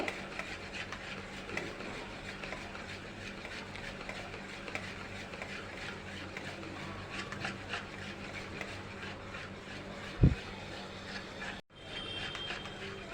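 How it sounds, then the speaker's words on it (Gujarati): Nylon khaman batter being stirred steadily for several minutes, a continuous close scraping and swishing with a quick rhythmic texture and one brief sharp knock near the end, with no talking. "3 થી 4 મિનિટ માટે આવી રીતના હલાવવાનું છે."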